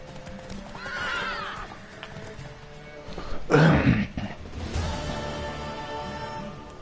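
In a video game, a horse whinnies loudly up close amid a soft clatter of hooves, with a shorter snort and neigh following afterward.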